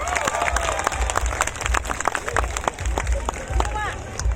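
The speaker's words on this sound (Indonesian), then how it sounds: "Tepuk tangan untuk beliau." Audience applause in a hall at the 2019 Makassar International Eight Festival and Forum, scattered individual claps and crowd noise with a loud voice talking over it throughout.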